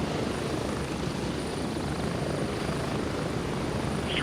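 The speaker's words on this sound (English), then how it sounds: "we're going with the loud helicopter ride" A military helicopter in the shooter game Gray Zone Warfare gives a steady, loud rotor and engine drone, heard as if from inside the cabin, constant throughout with no talk.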